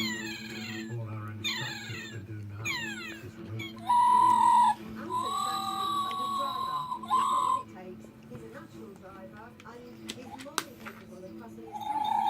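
Recorded New Zealand bird calls play from a speaker for two tabby cats, bright chirps and whistled trills in short bursts, mixed with a cat's meowing and a person speaking nearby.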